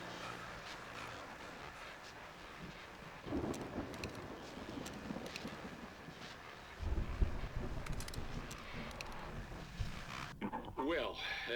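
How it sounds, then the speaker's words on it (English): In the video game Alan Wake, a thunderstorm brings steady rain with deep rolling thunder that swells midway, and a voice talks over the storm. "that storm we all felt coming is finally here"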